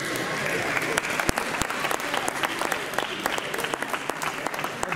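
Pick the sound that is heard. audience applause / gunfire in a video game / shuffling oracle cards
audience applause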